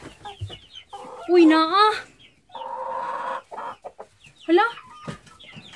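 Farm chickens cluck and squawk close by in short loud bursts, with a voice speaking in between.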